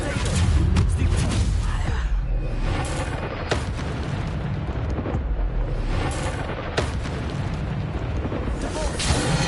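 Bombarda explosion spell in Hogwarts Legacy on PS5, a series of heavy booming blasts and crackling bursts over a dense, rumbling battle din, loud and close.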